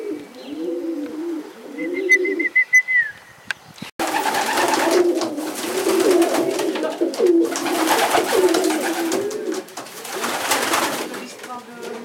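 Pigeons coo softly in repeated rolling calls, then a burst of wing flapping and a noisy, rustling stretch with more cooing underneath.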